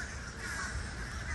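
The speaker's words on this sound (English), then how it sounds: "I hear birds." Crows cawing outdoors near Gasparilla Island Grill, a dense chorus of harsh calls overlapping continuously at moderate distance against steady background noise.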